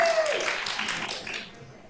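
A school board meeting audience claps to cheer on a presenter taking the floor, a dense burst of applause that starts strong and gradually thins out over a couple of seconds.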